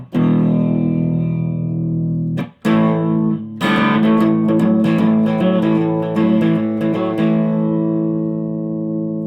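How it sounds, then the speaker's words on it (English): Distorted electric guitar plays a bluesy riff with sustained chords and sharp picked notes, loud and close, with a slight reverb tail. "we'll put it back so there's some distortion on here, just for a nice bluesy tone"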